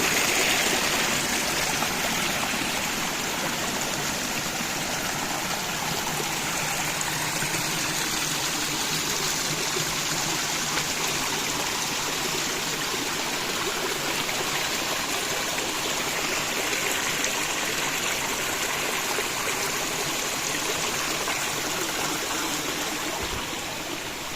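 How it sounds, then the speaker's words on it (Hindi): Cold spring water streams and splashes steadily at close range, a constant broadband rush that fills the whole stretch with no pauses and no voices. "बड़ा ही खूबसूरत ठंडा यह पानी है।"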